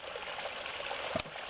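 Water rushes under compression through a long hose on an output line in a subterranean chamber, a faint steady hiss and trickle with a brief knock near the end.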